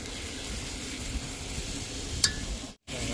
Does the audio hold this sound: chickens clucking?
no